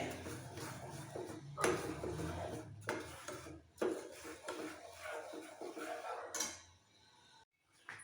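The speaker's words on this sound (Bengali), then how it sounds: "এবার কন্টিনিউ নাড়াচাড়া দিয়ে দেবো গুড়টাও গলে যাবে" Jaggery melting in a little water in a pot is stirred continuously, making soft, repeated scraping and clattering strokes at a fairly low level, then a brief near-silent pause.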